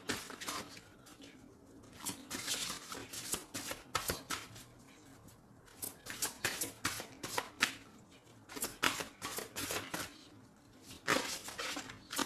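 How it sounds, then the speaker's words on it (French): Oracle cards being shuffled by hand in a quiet room: repeated soft riffling and flicking bursts with brief pauses, fairly close and moderately quiet, no talking. "Je vais faire un petit oracle de Rumi. Ok. Allez, on y va. Juste une carte pour nous donner de l'aide"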